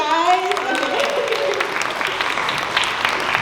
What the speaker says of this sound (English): Yeah, okay, clap for me, guys.